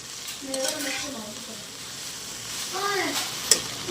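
Oil sizzles and crackles steadily as okra fries in a pan, with soft stirring scrapes and a brief clink of a utensil near the end.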